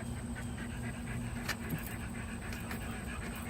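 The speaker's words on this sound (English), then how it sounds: "If y'all hear a lot of breathing, we have 5 dogs." Quick, rhythmic panting from five dogs close by, breathy and continuous over a steady low hum, with a few faint clicks.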